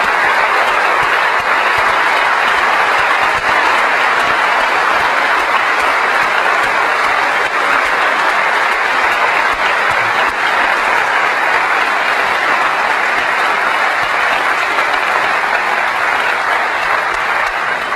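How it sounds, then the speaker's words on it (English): A large audience at the Macworld 2001 Apple keynote breaks into loud, sustained applause, a thick, continuous wash of clapping that stays steady for the full stretch with no speech over it. "I'd like you to join me in giving a round of applause to the software team, to the hardware team,"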